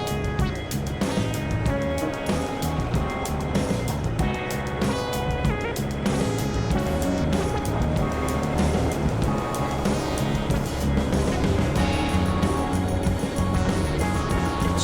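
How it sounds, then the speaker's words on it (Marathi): A motorbike cruises along the Mumbai-Pune Expressway, its engine droning loud and close with a steady rush of wind noise that runs unbroken throughout. "बाईक घेऊन जातोय आपण एक्सप्रेसवेला"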